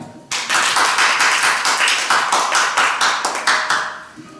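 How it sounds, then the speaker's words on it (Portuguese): Church congregation clapping together in a steady, fairly loud rhythm of many hands, tapering off toward the end with no voices. "Pode aplaudir o Senhor"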